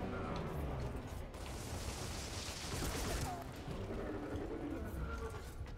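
Gunfire in the shooter game Gears of War: a dense, continuous rattle of shots and bursts with no clear gaps, steady and fairly loud.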